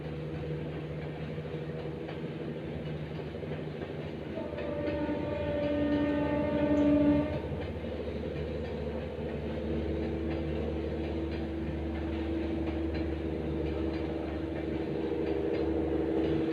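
A train rumbles steadily past, with a loud horn blast sounding partway through before the heavy rolling noise continues to the end, and no one talking.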